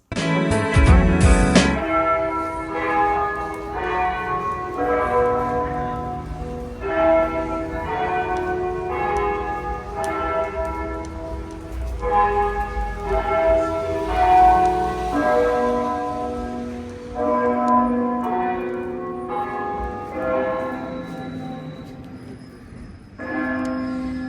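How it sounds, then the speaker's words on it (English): A church-style bell tolls repeatedly in a steady rhythm, ringing out with rich overtones that linger between strikes, heard alone without voices. "Have you heard this bell?"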